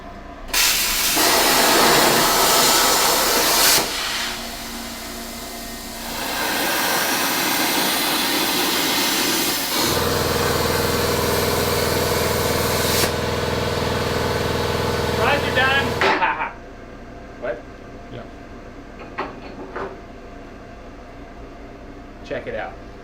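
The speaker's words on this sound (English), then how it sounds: "So we're gonna start right over here at our Crossfire Pro plasma table to cut out our subframe" A Crossfire Pro plasma table cutting out a subframe, a loud continuous hissing roar that shifts in tone midway and stops abruptly, leaving lighter clicks and clanks afterward.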